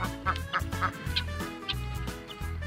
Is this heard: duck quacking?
yes